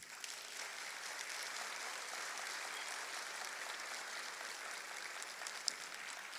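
Steady applause from a conference audience welcoming the next speaker at a 2019 lecture event, an even, continuous wash of many hands clapping at moderate distance for the whole stretch.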